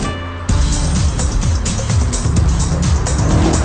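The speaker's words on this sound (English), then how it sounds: "The engine behind my head is a 2-litre Honda naturally aspirated unit, but here it's been tuned to 270 horsepower." An Ariel Atom Mugen with a tuned 270-horsepower 2-litre naturally aspirated Honda engine starts pulling hard, a loud, close, rising engine roar that holds steady after a sudden onset.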